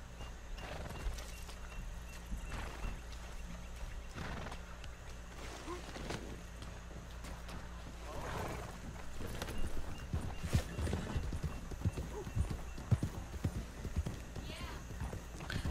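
Horse hooves clip-clop steadily through Red Dead Redemption 2 gameplay, joined by a brief neigh, with voices talking over the rhythmic footfalls and background game ambience.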